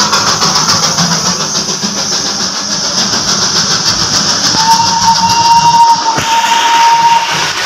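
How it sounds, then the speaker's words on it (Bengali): Darjeeling toy train drawing near Ghum station, a steady mechanical rumble over outdoor noise, then a long sustained whistle tone sounding for a few seconds before a sudden break. "এই যে টয় ট্রেন আসছে।"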